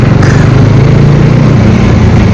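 Bajaj Pulsar NS400z motorcycle engine held at about 5,000 RPM, a loud, close, steady droning rumble with no break.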